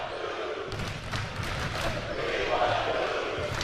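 Dense basketball crowd noise at a high school game between Camden and Archbishop Wood, steady loud cheering and chanting filling the whole stretch, with a commentator's voice running over it.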